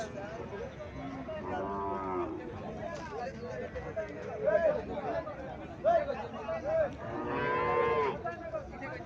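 On a farm in Cumilla, a crossbred Haryana cow lows in several long moos, a loud sustained call closing the sequence, while people chatter in the background.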